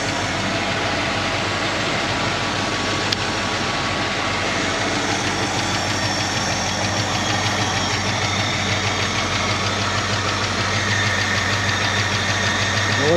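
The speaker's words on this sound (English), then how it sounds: "I'm letting it idle so the lifters get the oil pressure they need to self-adjust." A 1966 Ford Mustang's 289 V8 idles steadily while warming up, a constant close rumble with a faint ticking texture that runs unbroken, with no voices.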